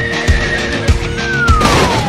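A horse whinnies over a busy background of repeated low thumps and a sliding tonal sweep, the neigh rising briefly above the mix at moderate loudness.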